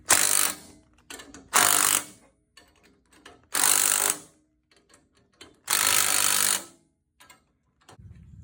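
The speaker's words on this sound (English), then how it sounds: "I'm gonna tighten the spring some more while nothing is in the way" A spring compressor is ratcheted tight on a coil-over shock spring during a Ford Bronco lift with a Wiltrak HOSS 3.0 and perch collar. Four loud, close bursts of rapid ratcheting clicks are separated by quiet pauses and faint handling noises.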